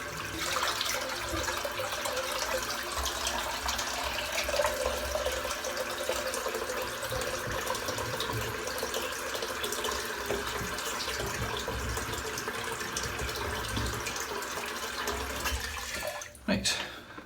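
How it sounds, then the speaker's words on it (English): Water from a shaving bowl pours and splashes into a sink, a continuous gushing wash with gurgles that runs on steadily, ending in a couple of clunks, with someone talking over it. "I'm just going to empty the water out because it's a little bit too itchy now."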